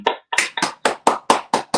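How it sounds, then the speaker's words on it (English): A few people clap in a slow, steady rhythm after a call to cheer for a hometown legend on a hip-hop talk show, about eight sharp, evenly spaced claps close by, with no talk. "clap up for that"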